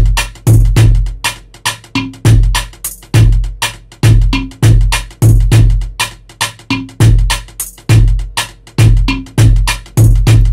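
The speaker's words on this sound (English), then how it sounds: "I added the kick next" A steady, punchy kick drum beat thumps in a repeating rhythm, loud and close, with no other instruments or voices.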